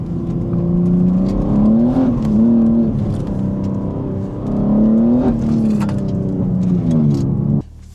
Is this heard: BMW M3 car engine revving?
yes